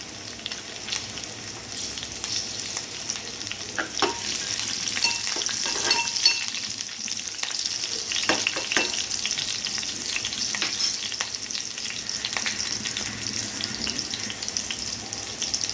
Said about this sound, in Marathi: थोडीशी आपण हिरवी मिरची परतून घेऊया